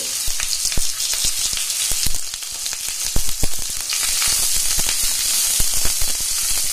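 Capsicum pieces, boiled carrot, beans and cabbage fry in a hot pan for veg fried rice, giving a steady loud sizzle with bright hiss and scattered crackling pops throughout, no voices.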